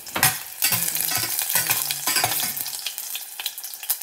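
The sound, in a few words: cooking food in a pan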